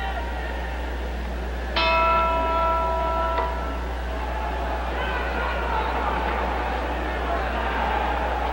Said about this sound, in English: looking into the corner of Bob Satterfield as he waits for the bell.